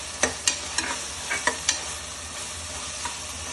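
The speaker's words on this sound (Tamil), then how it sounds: "ஆட் பண்ணி வதக்கி விட்டுக்கலாம்" Peas and garam masala sauté in a pan for mushroom biryani, a soft steady sizzle broken by several sharp stirring scrapes and clinks, close and fairly quiet.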